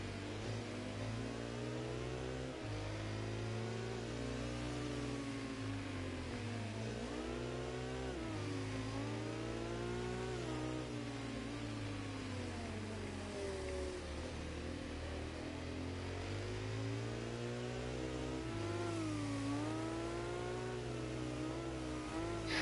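A heavy motorcycle in a PS4 racing game revs through repeated rising and falling engine sweeps, shifting up and down through the gears, loud and continuous for the whole stretch.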